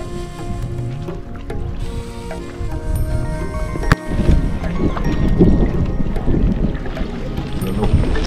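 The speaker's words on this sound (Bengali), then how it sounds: "এখানে যে একটা নৌকা ওই দিক থেকে আসছে মাছ ধরার জন্য" A fishing boat on the Tungabhadra river, heard as a steady, fairly loud wash of water and engine rumble mixed with wind buffeting the microphone, continuous throughout with a brief knock midway.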